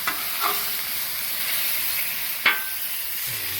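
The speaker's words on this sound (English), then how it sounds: "Nice sear on that sucker." Meat sears on a hot pan for street tacos, giving a steady, close, dense sizzle with a couple of sharp scraping clicks from the pan.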